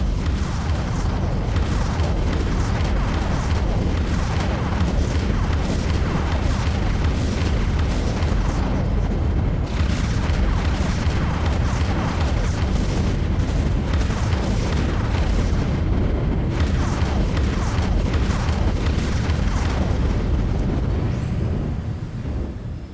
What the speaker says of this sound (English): Launching vulture missiles.